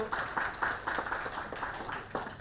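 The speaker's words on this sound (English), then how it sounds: "yes, we do deserve a great clap for that." Workshop audience gives a brief burst of light, faint clapping with individual claps audible in a quick uneven rhythm.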